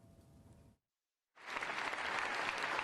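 Fellow lawmakers in the US House of Representatives applaud in a large chamber. After a brief quiet stretch, loud, sustained clapping resumes and holds steady to the end.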